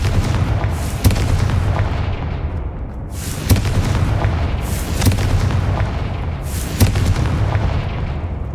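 Confringo explosive fire spell from Hogwarts Legacy, cast repeatedly: four loud, sharp blasts spaced a couple of seconds apart, each trailing into a rumbling boom over a steady low background roar.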